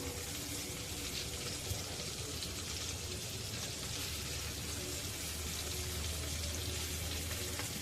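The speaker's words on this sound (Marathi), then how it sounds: "मच्छी खालच्या बाजूने फ्राय झालेली आहे पलटून घेऊया" Pieces of jitada fish frying in a pan over a low flame, giving a steady, even sizzle and crackle of oil that holds throughout without a break.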